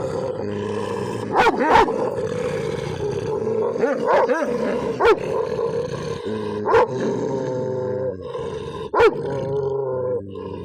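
Two leashed dogs growl and snarl continuously at each other, with several louder sharp bursts and yelps breaking through the rumbling at irregular intervals.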